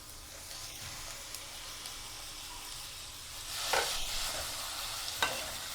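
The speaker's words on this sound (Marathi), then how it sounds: "आता त्यावरती आपण कोलंबी घालूया" Prawns sizzle in a pan over onions already softened and browned with turmeric. A steady frying hiss is broken by a few louder stirring scrapes near the end.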